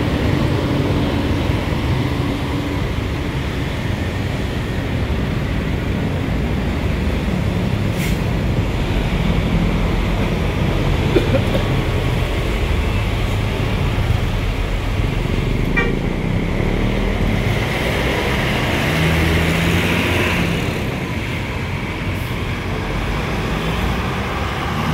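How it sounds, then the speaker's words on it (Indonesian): A Handoyo P-series intercity bus pulls out of Tidar bus terminal in Magelang, its engine rumbling steadily amid busy station traffic, passing vehicles and occasional horn toots, with no talking. "Selanjutnya bis Handoyo seri P tujuan Poris dari Jogja berangkat dari Terminal Tidar."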